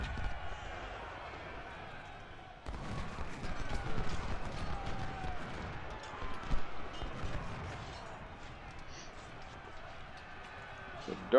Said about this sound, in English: That's the type of cavalry charge you're looking for.